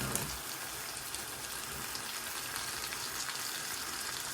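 Onion and garlic sautéing in a pan with tomato for a prawn curry, giving a steady, dense sizzle that crackles evenly throughout with no break.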